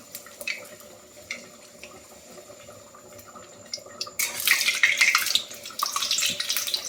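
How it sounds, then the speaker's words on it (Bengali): Luchi, a puffed flatbread, fries in oil: quiet crackles and drips give way midway to a loud, hissing sizzle that keeps bubbling and spitting to the end. "আমি লুচি ভাজছি এখন।"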